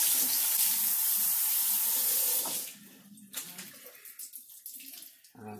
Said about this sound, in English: I'm going to rinse them in cold water.